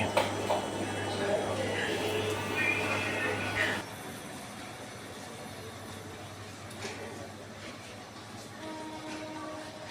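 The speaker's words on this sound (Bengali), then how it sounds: "আগত জয়ন্ত্রিকা এক্সপ্রেস ট্রেনটি বিমানবন্দর রেল স্টেশন ছেড়ে যাচ্ছে" Rumbling Jayantika Express train pulling away from Biman Bandar railway station, a loud low mechanical drone that drops off partway, leaving quieter rolling noise and clatter.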